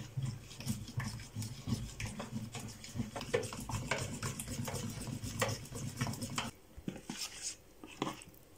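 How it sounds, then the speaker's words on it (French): A spoon stirs chocolate into pancake batter in a bowl, giving quiet repeated scraping and rubbing strokes with light clinks, steady for several seconds and then breaking into a few sharper taps near the end. "je vais y mettre une cuillère à café de chocolat et remuer jusqu'à ce que la"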